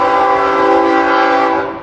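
A passing train blasts its horn in one long, loud, steady tone that holds for nearly two seconds before starting to fade at the end.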